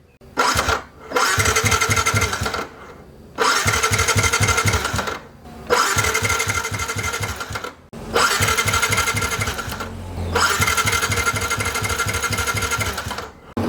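A Yamaha Y15ZR motorcycle fitted with a Protaper racing coil and iridium spark plug is cranked over in several loud, close bursts of rapid, even mechanical chugging, separated by short pauses.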